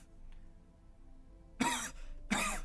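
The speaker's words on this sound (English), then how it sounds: "coughs for a second." Two short, sharp coughs ring out close by after a quiet pause, a brief gap separating the bursts.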